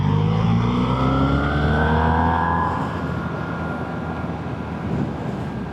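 A 2026 BMW R1300R motorcycle engine pulls hard in third gear in road mode, a loud steady drone with rising harmonics that climbs then levels off as the revs hold, no talking over it.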